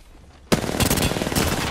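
Sudden rapid automatic gunfire in a shooter video game, loud and close, beginning abruptly after a moment of near silence and continuing as a dense rattling burst.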